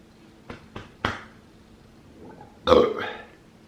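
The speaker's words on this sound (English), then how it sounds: "let me get this one last burp out" A loud, drawn-out burp near the mic, lasting under a second, after a few short sharp clicks and a quiet pause.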